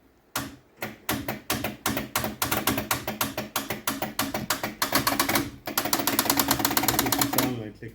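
The starter of a partly disassembled 1975 Toyota Publica KP30 engine clicks in rapid, steady bursts, loud and close, then breaks into a denser chattering run near the end.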